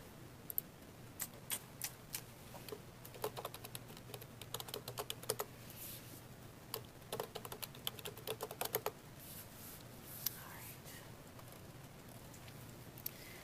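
Typing on a computer keyboard into a document, a steady run of quick, light key clicks with short pauses, fairly close and quiet over a faint room hum.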